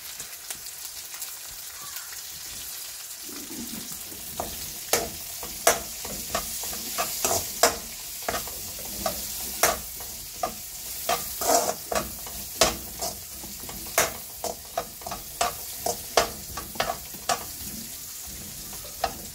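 Onions frying in a pan, stirred over a steady sizzle, with many sharp spatula scrapes and knocks in an irregular rhythm, close and fairly loud.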